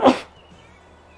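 One sudden, loud human sneeze right up close, a sharp burst that fades fast into quiet room tone.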